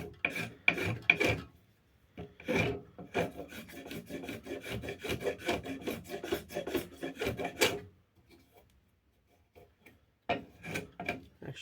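A spokeshave shaves a wooden axe haft being refitted with a Rixford head, giving a run of close, rhythmic rasping strokes that stop for a pause and then resume with a few more passes.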